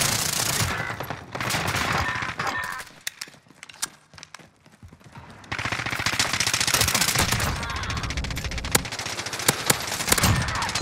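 Akimbo Sykov pistols in a video game fire rapid, dense bursts of shots in long runs, easing off into a quieter stretch before the fast fire resumes loud and steady.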